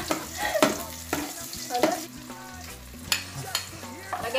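Sliced onion sizzles and sautés in a hot pan, with scraping stir strokes and clattering utensil hits recurring throughout, fairly close and steady, with no talking over it.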